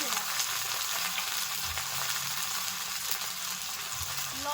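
Green chillies fry in a pan while cooking Bengali loti chingri, giving a steady, close hiss of sizzling oil with light stirring scrapes and occasional low knocks, no voices.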